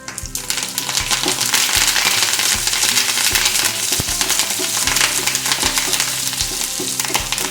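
Urad dal, dried red chilies, fenugreek, coriander seeds and curry leaves fry in oil in a pan, giving a loud, steady sizzle with crackling pops and occasional stirring clinks, with no talk over it.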